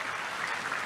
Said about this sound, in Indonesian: Tepuk tangan dulu yang paling meriah buat Tuhan.